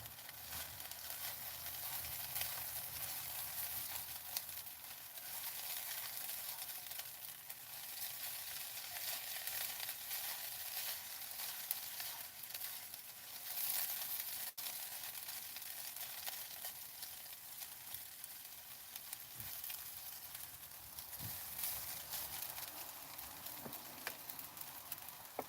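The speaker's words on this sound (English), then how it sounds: "Give this a good stir" Food sizzles steadily in a pan while being stirred, a continuous bright frying hiss at moderate level with a few small clicks, no voices.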